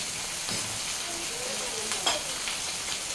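Panch phoron, a bay leaf and a dried chili sizzle in hot oil as the tempering for a Bengali moong dal with fish head, a steady, even frying hiss with a few soft pops, close and alone.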